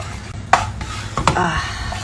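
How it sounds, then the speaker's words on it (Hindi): A spice masala for smoked mutton (dhuaan maas) fries in a pan with a steady sizzle, while a utensil stirs it with two sharp scraping clinks against the metal, close by. "ये अब इस मसाले को अब हम अच्छे से भूनेंगे"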